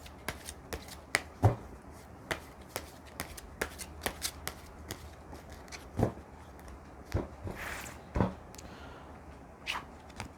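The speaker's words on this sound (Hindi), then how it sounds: "तो मुझे अब ओरेकल कार्ड निकालने पड़ेंगे ताकि देखें कि इनके लिए आपको करना क्या है" Oracle cards being shuffled by hand, a run of crisp riffling flicks and taps coming at uneven intervals, close and fairly quiet, with nobody speaking.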